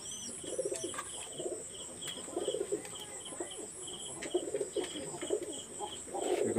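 A pair of yellow-eyed Indian Kaldom pigeons coo in soft, repeated low phrases, with faint chirps and a steady high insect-like hiss in the background.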